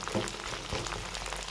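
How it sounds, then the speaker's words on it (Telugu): Okra pieces frying in oil over a medium flame for a curd bhindi masala curry give a steady, fairly faint sizzle with a few soft stirring clicks, and no one speaks. "బెండకాయల ముక్కల్ని వేసుకోండి. వీటిని ఆయిల్లో కాస్త ఫ్రై అవనివ్వండి."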